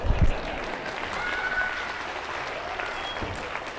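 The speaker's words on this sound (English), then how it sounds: "you can clap on that" An audience at a dinosaur lecture breaks into applause, a steady wash of clapping that holds evenly after a brief louder bump at the start.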